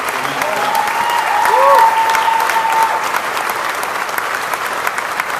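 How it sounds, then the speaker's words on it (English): Audience applause fills a factory-floor crowd gathering, steady clapping throughout with a brief swell near the middle and a faint tonal whine above. "Give him a well-deserved round of applause for him."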